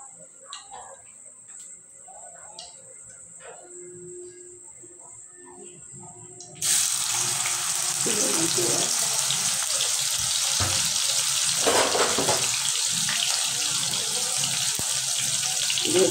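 Onions dropped into hot oil in a wok for khichuri burst into a loud continuous sizzle that starts abruptly partway through, following a quieter stretch of kitchen sounds.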